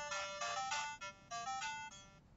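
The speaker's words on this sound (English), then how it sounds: "Sorry, I got a phone call." A phone ringtone from an incoming call, a bright melodic tone repeating in short bursts with brief gaps, clear but modest in level, with no talk.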